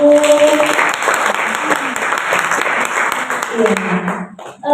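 An audience at a school talk show in Bondowoso, East Java, claps steadily, a close, dense round of applause that tapers off at the end, with a voice briefly audible.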